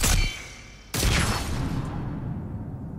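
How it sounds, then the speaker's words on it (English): A tracking launcher shot in Mass Effect 3 with a secondary explosion: a sharp blast, then a second heavy boom under a second later, trailing into a long rumbling decay with no talk. "Wait a second, was that a secondary explosion?"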